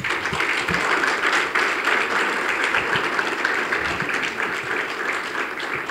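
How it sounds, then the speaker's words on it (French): Sustained audience applause fills a hall at an anniversary celebration for the Top Congo club, dense steady clapping at even loudness throughout. "je vais vous demander d'applaudir Nivelle Ilonga"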